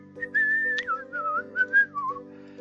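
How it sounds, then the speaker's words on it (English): A character in a teddy bear adventure game whistles a short wavering tune, clear and close, over a soft sustained musical background. "Oh, he just whistles."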